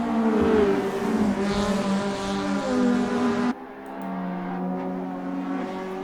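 Race cars in an SRA GTI Challenge race drone past with strong, steady engine tones. One loud engine note cuts off abruptly and a quieter car carries on alone.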